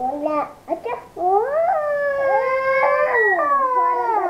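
A voice imitates a wolf howl: a few short yelps, then a long, rising and wavering howl held loudly near by.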